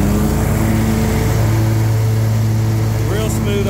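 A Hustler X-ONE commercial-grade zero-turn riding mower with a 60-inch deck runs at a steady, loud, close engine drone, holding an even pitch throughout.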